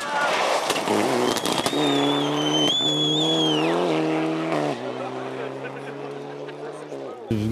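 A rally car races along a fast speed stage with many jumps, its engine revving loudly and the pitch rising and falling through the gears. A voice talks over the engine noise.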